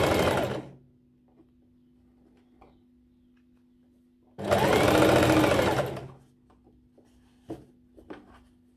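A sewing machine stitching a V neckline runs in two short bursts, one at the start and one mid-clip, separated by near silence with faint ticks and handling clicks.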